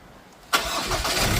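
After a quiet moment, a Ford Ranger pickup engine with a faulty temperature sensor and poor revving suddenly cranks and catches, then settles into a loud, steady idle.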